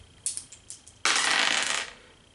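Several small dice clatter in quick taps, then a burst of dice rolling and rattling across a tabletop for nearly a second during a Galaxy Defenders board game, close and crisp with no talk.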